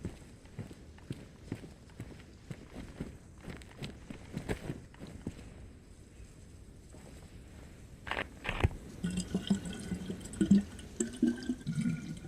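Water picked up in the survival video game DayZ: soft inventory rustles and clicks under a steady outdoor ambience, followed by a brief burst of liquid sloshing and clattering near the end.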